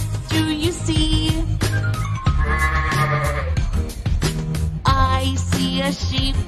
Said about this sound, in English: I see a sheep. Baa, baa, baa.